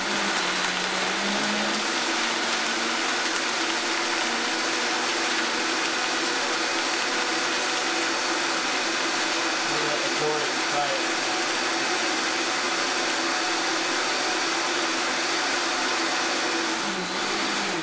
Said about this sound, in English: So we're going to blend it more.